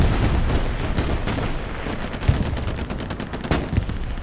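Gunfire and artillery in Hell Let Loose pound together, with dense rattling volleys and heavier booming impacts, loud and continuous with no talking.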